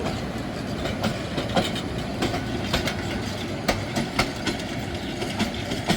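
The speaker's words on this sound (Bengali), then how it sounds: "সাত অক্টোবরের আন্তনগর ব্রহ্মপুত্র এক্সপ্রেস মেলান্দহ বাজার স্টেশন থেকে" The Brahmaputra Express intercity train pulls out of Melandah Bazar station in Jamalpur, its wheels beating a steady, evenly spaced clickety-clack over a continuous rumble, close and loud.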